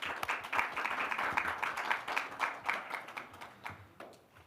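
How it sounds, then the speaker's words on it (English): Conference audience at the OECD-KOSTAT Global Conference applauds to welcome the moderator and panelists, a steady wash of many hands clapping that swells and then gradually fades, with no talk over it. "let's welcome our moderator and the panelists with a big round of applause"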